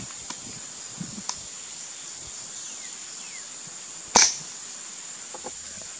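A Hammerli 850 AirMagnum air rifle fires a single sharp, fairly close shot in an otherwise quiet outdoor setting, with a steady insect-like hiss and a few faint clicks beforehand.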